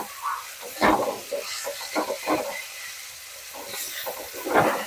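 Garlic fries separately in a pan for Bengali mutton kosha, a close, hissing sizzle broken by several scraping stirs, with no talk over it.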